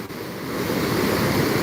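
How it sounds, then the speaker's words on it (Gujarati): High water of the Tapi river at Surat rushes past in a steady, full roar, close and loud, with no voices. "આજે આપણે આ એક નાનો એવો તાપી નદીનો લાઈવ નજારો રેકોર્ડ કરી રહ્યા છીએ"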